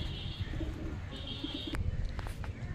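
A female pigeon at a loft in Munshirhat gives soft, low cooing, faint and partly buried in steady background noise, with no speech.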